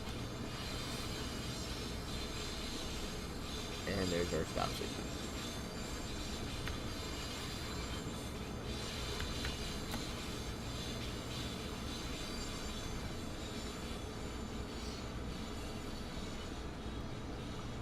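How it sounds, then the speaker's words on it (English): Rail traffic on the Amtrak Boston Sprinter route in Train Sim World 2: a steady, close rolling rumble and track noise fill the whole stretch, with a brief louder burst of wheel squeal midway and a voice speaking briefly over it. "There's one train leaving."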